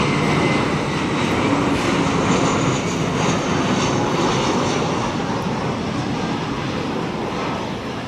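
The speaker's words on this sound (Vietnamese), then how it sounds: "Còn đây là một chiếc máy bay của Viettravel Airlines và chiếc máy bay với màu sơn cũ của họ đây này đang bước vào hạ cánh." A Viettravel Airlines airliner lands at Tan Son Nhat airport, its engine roar loud and continuous throughout, a broad steady rush with no talk over it.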